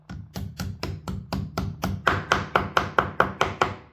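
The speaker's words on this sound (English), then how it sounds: "tap it flush with the wall with your hammer" A hammer taps a wall plug flush with a wall steadily about sixteen times in an even rhythm, each blow sharp and close, growing slightly louder toward the end.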